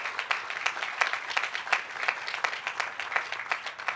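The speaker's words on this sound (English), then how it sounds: "Give them all a round of applause" An audience at an outdoor airport metro connector groundbreaking ceremony applauds steadily, a dense patter of many hands clapping at moderate distance with no voices above it.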